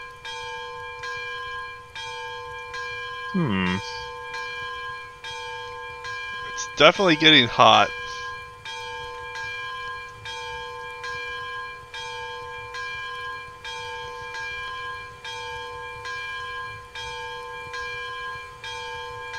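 A steam locomotive's bell rings in a steady, repeating rhythm throughout in the Railroads Online train game, clear and fairly loud, with two brief bursts of speech breaking over it.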